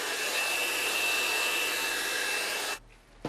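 A handheld hair dryer blows a loud, steady whoosh while heat-sealing the packaging on a bottle of Moutai liquor in Guizhou, then cuts off abruptly near the end.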